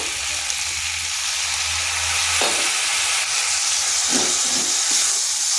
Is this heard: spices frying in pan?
yes